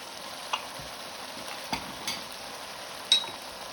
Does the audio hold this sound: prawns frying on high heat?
yes